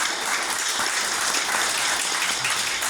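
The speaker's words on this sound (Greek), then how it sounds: "Να το χειροκροτήσουμε." Audience applause at a public presentation, a dense, even wash of many hands clapping close and loud for the whole moment.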